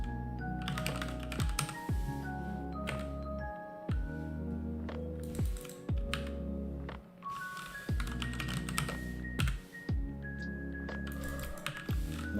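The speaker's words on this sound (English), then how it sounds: "Not sure what you're typing" Rapid, irregular typing on a computer keyboard, crisp clicking keystrokes in bursts with short pauses, close and fairly quiet, with no talking.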